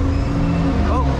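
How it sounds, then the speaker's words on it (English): A number 51 bus passes along Welling High Street, its steady low engine rumble close and continuous with a brief rising whine near the end amid street noise. "Oh, that bus just ran a red light."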